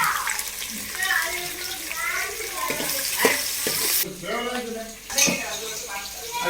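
Onions and green chillies sauté in a pan with close, crackling sizzles and the scrape and clink of stirring, while a voice talks over the cooking.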